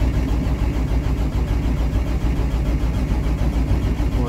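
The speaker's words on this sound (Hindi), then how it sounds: "अल्लाह का शुक्र है इंजन तो स्टार्ट हो गया." A car engine runs on a snowy morning in extreme cold in Toronto, a steady rough low idle with a constant rumble, close and fairly loud, no voices over it.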